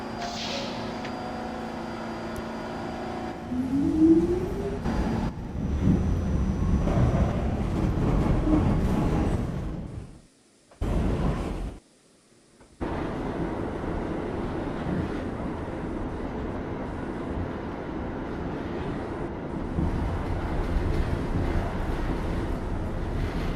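An M line subway train runs steadily with a broad rumble and rail roar, briefly dropping out in short gaps mid-run, then resuming a constant loud ride with no talk.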